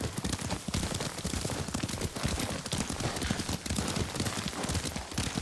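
Rapid, continuous hoofbeats of a galloping horse in Ghost of Tsushima, loud and dense, with a noisy, rumbling background throughout.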